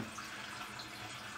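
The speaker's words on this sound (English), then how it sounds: "it's filling way too fast in the bowl itself" Water rushing steadily into a toilet bowl during refill after a flush, a continuous hissing wash of fairly quiet flow with no voices over it.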